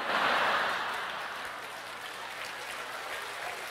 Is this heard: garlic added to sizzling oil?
no